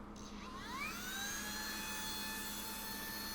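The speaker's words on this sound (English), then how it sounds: "You got our power button to turn on the vacuum. You'll flip that nozzle up, then turn it on." A Lydsto handheld vacuum cleaner switching on, its motor whine rising in pitch over about a second and then holding as a steady, close, high-pitched hum.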